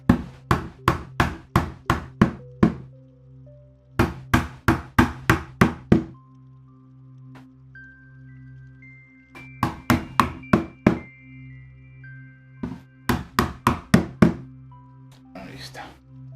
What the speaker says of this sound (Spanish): le damos con un martillo, que en vez de ser un martillo tan rígido, pues es uno de estos.